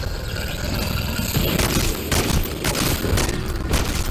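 Longbow sniper rifle fire in Modern Warfare 3 Zombies, a few loud, sharp shots standing out over a dense wash of in-game explosions, gunfire and chaotic background noise, with no talking.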